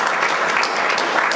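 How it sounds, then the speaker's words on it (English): Audience applause at a bill-signing event for Teach for America, a dense, steady wash of clapping hands at even loudness throughout, with no voices over it. "You can applaud."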